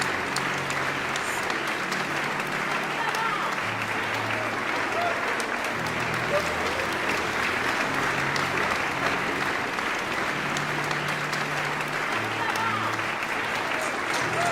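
A church congregation applauds the Lord with sustained, even clapping that fills the room for the whole stretch, steady in loudness, with faint voices mixed beneath the applause.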